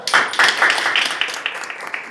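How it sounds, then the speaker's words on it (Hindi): A small audience at a presentation on organic fertiliser gives a quick burst of clapping, several sharp close claps that fade off within about two seconds. "ताली जोरदार"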